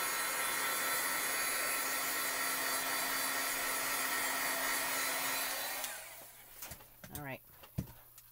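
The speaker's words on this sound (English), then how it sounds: "I'm just going to take the heat tool and dry this real quick" A heat tool blows a steady, loud, whooshing drone for about six seconds while drying Distress ink on paper. It then cuts off, leaving a few faint handling clicks and a rising whine as it spins down.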